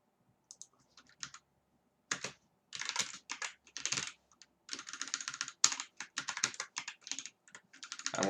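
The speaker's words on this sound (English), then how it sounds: "And I'm gonna try to type" Computer keyboard typed on in short irregular bursts, close and crisp, with pauses between runs of keystrokes and the rhythm picking up toward the end, during a coding session; no voices.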